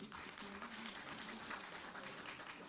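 Crowd applause greets farmer producer company representatives receiving GI certificates at a Dehradun ceremony, a dense, even wash of clapping holding steady for a few seconds.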